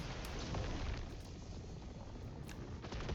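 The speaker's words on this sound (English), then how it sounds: "you get a really big fire explosion" Big fire explosion in the Last Epoch video game, a dense, loud roaring blast with crackling bursts rumbling steadily throughout, no talk.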